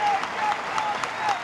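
Crowd at a 2025 NCAA Super Regional baseball game between Louisville and Miami cheers and claps in a sustained roar, loud and continuous across the whole moment, with a faint whistle-like tone cutting through.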